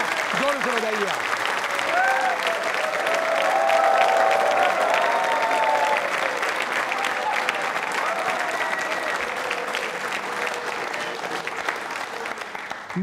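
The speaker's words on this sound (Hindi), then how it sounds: "इस संकल्प के लिए तालियां जोरों से बजाइए आप।" Audience applause at a Hindi-language Yoga Day quiz show, a sustained crowd clapping at steady loudness for about thirteen seconds with some voices and murmurs mixed in.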